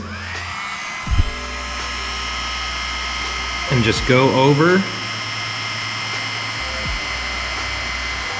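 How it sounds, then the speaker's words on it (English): A steady electric heat gun hum on a low setting runs throughout while warming a decal, with a brief whining burst midway as a person speaks over it. "So right here, I've got a simple heat gun."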